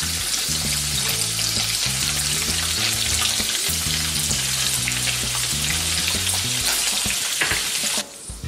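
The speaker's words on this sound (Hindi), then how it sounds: "अब हम ये पनीर उसमें फ्राई करके लेते हैं।" Paneer pieces fry in hot oil, making a loud, dense, continuous sizzle and crackle with a steady background tone throughout, cutting off abruptly near the end.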